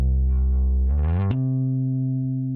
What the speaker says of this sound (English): if I wanted to halfway through the measure slide from a low C to a high C